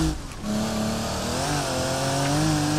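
Full-throttle acceleration of a rally car in BeamNG.drive, a steady loud engine tone rising in pitch for nearly three seconds, with no talk over it.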